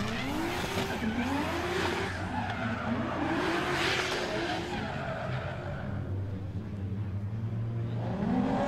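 Drift car tires squeal and skid continuously during a drift competition run while an engine roars under a crowd-like wash, sustained and fairly distant.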